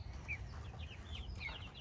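Baby chicks peep softly and intermittently at a feeder, their thin high chirps scattered over a steady low farmyard rumble, fairly faint and close.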